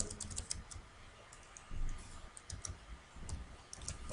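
A computer keyboard clacks as a button caption is entered, with quick irregular keystrokes and a few heavier thumps, close and moderately quiet.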